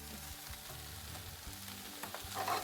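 Mushrooms and onions sautéing in a pan as they are stirred together, a continuous soft sizzle with a few utensil scrapes and a brief louder hiss near the end, no voices.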